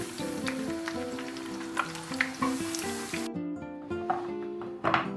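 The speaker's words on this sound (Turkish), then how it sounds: "diğer patlıcanlardan devam ediyorum ve tamamını kızartıyorum bu şekilde" Oil sizzles steadily as eggplant slices fry in a pan, with occasional clinks and stirring under music playing throughout.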